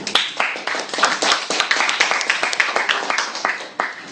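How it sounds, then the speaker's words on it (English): A small audience of students claps for school debate teams, a close, uneven run of individual hand claps with distinct, rhythmic peaks throughout. "Let us give another round of applause for our debate teams."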